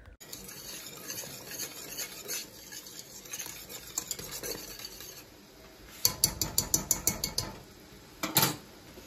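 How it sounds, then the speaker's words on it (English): Corn cob jelly stirred constantly in a pot, with soft swishing and then a quick run of sharp rhythmic spoon clicks against the pot's side, followed by a brief louder scrape. "Stir it constantly."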